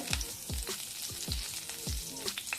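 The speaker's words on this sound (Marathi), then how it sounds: "आता ही कढई गरम झाली आता त्याच्यामध्ये टाकूया बटर" Butter sizzling and frying in a hot kadhai, with rhythmic stirring scrapes recurring about every half second close by and no speech.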